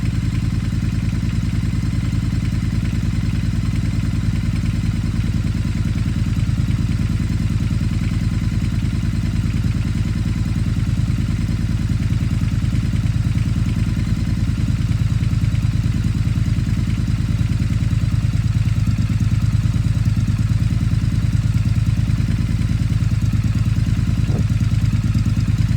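A motorcycle fitted with a British Customs Predator Pro exhaust rumbles at a steady, loud idle throughout, with a constant low throb and no clear rise into revving.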